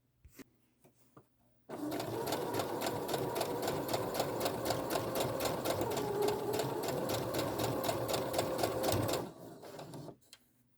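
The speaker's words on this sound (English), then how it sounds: "I'm going to back stitch and sew to there and back stitch." A sewing machine back stitches and then sews across a mini Christmas stocking in one steady, close mechanical run of rapid needle strokes lasting about seven seconds, with quiet handling clicks before and after.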